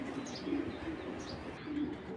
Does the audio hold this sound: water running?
no